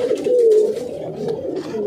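A tournament racing pigeon coos close by, giving soft low throaty warbles in a short repeating sequence.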